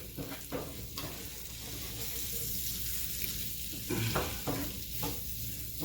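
Potatoes fry in a pan left unwashed from the previous cooking, a steady soft sizzle broken by a few scraping stirs, moderately close, with no talk.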